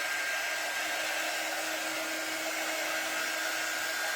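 A dryer blows on shimmer paint on a door hanger, producing a steady, loud, unbroken whooshing hum that holds at an even level throughout with no voices.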